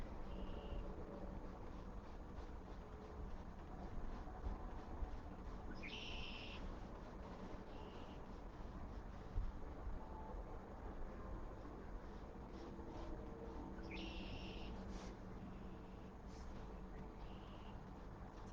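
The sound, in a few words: birds chirping outside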